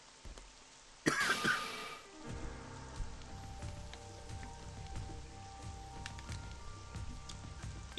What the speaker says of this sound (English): It's raining in the building.